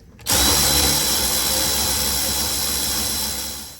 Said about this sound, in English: you put your air hammer on your Y pipe, your collector back there, and just give it a bump